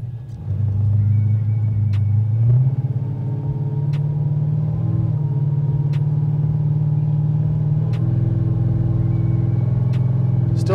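An Impala SS with a nitrous LSX 454 engine driving, heard as a steady deep engine rumble from inside the car with a gear-like shift early on, loud and continuous, with no talking.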